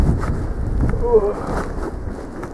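Steady wind blows across the microphone with a low rumbling roar, continuous and fairly loud, with faint murmuring voices underneath.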